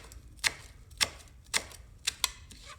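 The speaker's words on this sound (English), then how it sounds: "I'm going to cut up the cilantro a little bit." A knife chops cilantro on a cutting board in five sharp, distinct taps at an uneven pace, close and clear against a quiet background.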